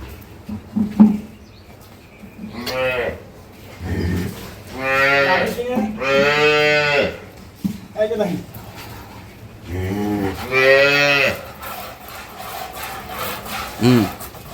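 Dairy cows on a farm moo several times in long, loud calls, with people talking in between and around them.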